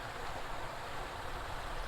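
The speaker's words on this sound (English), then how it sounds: "we got the waterfall in the background" A waterfall rushes steadily in a canyon, a continuous soft broadband wash of flowing water heard alone at a distance, with no talking.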